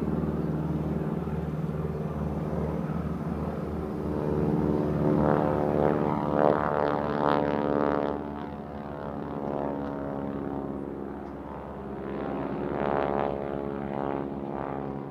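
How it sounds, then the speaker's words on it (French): A Stearman biplane's propeller engine drones steadily at a wing walking display, a sustained, fairly distant buzzing roar that swells in the middle and again near the end. "Un Stearman pour une présentation de Wing Walking."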